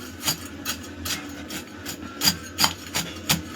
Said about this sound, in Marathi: हे आपण चमच्याच्या सहाय्याने एकजीव करून घेऊया